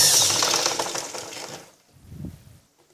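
A sewing machine stitching a blouse, a loud rapid mechanical chatter for about a second and a half that then stops, followed by a brief low thump and near silence.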